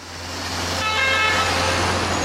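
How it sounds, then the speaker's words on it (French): An ambulance's three-tone warning horn sounds over steady road and engine rumble, its tones rising in clearly from about a second in and holding steady. "Elle possède en règle générale un avertisseur 3 tons"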